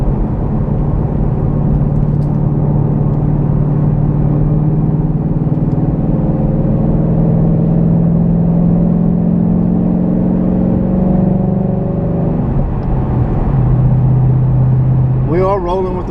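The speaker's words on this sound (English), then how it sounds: "so that little bit of noise you hear is the exhaust." Low, steady rumble of a car's Roush exhaust system while cruising with the windows up, a constant drone with slight pitch shifts under continuous talking.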